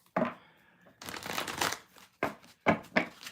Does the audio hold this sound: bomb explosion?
no